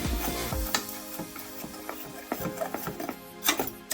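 Dry sage, rosemary and thyme seasoning being stirred in a bowl for fried chicken, with soft scraping and light clicking taps of the utensil against the bowl, close and fairly quiet.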